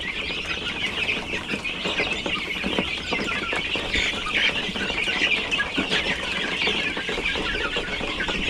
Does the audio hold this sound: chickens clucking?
yes